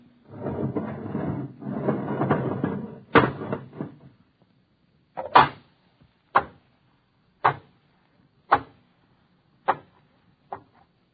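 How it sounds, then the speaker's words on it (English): In a rocket-bunker airlock, the inner door opens: a few seconds of rushing, hissing air give way to a run of sharp, heavy clunks spaced roughly a second apart, close and fairly loud. "All right, open the inner door."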